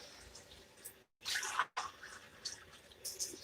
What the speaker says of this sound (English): let's add some tap water.